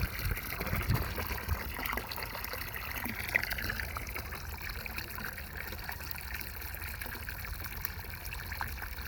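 Water pours steadily into a cistern during filling, a constant low rushing and trickling wash that runs unbroken throughout at moderate distance.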